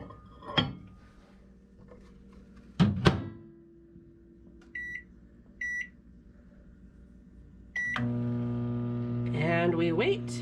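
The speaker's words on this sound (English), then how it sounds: "now you put this in the microwave for 75 seconds." A cookie goes into a microwave oven: clunks of the door, keypad beeps, then the oven starts with a steady loud hum that continues to the end.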